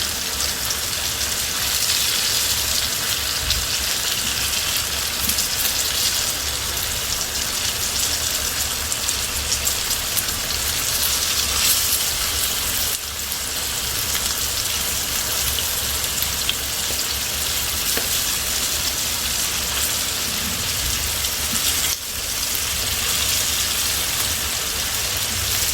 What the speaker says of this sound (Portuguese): Deixa fritar mais um pouquinho aqui.